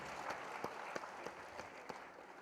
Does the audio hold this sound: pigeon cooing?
no